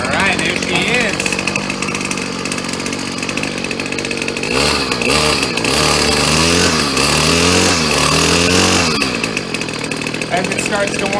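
Gas-powered Ryobi 790r string trimmer engine running and warming up, a harsh buzzing two-stroke whine that holds steady, then surges into a rougher rising rev midway before settling, close and loud, with a voice speaking over it.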